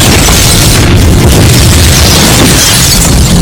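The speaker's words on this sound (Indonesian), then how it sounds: "Santino mengambil sebuah RPG untuk meledakkan rumah John" A house blown up by an RPG in the film John Wick: a loud, sustained roaring blast filling the whole clip with dense rumbling debris.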